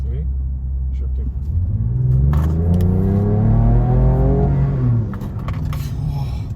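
A Ford Ranger Raptor pickup in two-wheel-drive mode accelerates hard, its engine roar climbing in pitch through the gears, loud and close, then easing off near the end.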